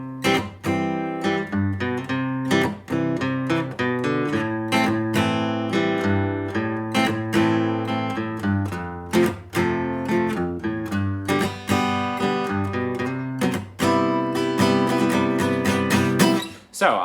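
Guitar playing a song with bass note runs, plucked chords and single low notes in a steady, rhythmic pattern, close and clear with no talking.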